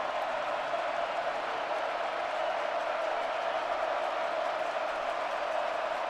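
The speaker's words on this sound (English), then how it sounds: "Crowd's getting loud." Steady, dense roar of a big stadium crowd at the Rose Bowl college football game between Michigan and Alabama, a distant wash of voices holding level and unbroken throughout.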